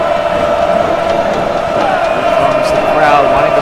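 A dense, continuous crowd roar from a college basketball video game matchup of Georgetown at Villanova, loud and steady throughout with a sustained tonal hum, while a commentator talks over it.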